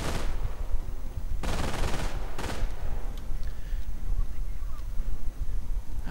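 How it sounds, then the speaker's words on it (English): Machine gun bursts and mortar fire in a war strategy video game, with two sharp loud bursts of rapid gunfire standing out over a dense, constant rumble of distant battle. "Another MG moving up. Mortars firing away."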